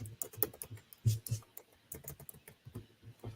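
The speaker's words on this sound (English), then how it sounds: "I hear furious typing going on." Fast, furious typing on a computer keyboard, a dense run of quick clicking keystrokes with bursts of louder taps, close and fairly quiet, with voices murmuring beneath.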